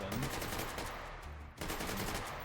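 Rapid automatic fire from an AK-style rifle in a video game, a dense continuous burst with one brief pause before the shooting resumes.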